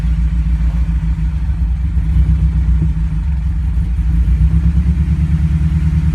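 A Mitsubishi Galant GTO engine with a running issue idles steadily slightly low, with a low, even rumble, close and continuous, with no talking.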